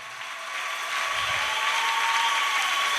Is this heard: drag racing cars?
no